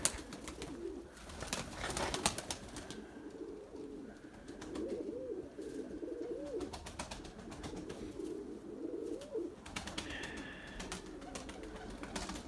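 Pigeons coo softly and repeatedly at close range in a quiet loft, their low rolling calls overlapping, with occasional faint rustles and brief higher chirps, and no talking.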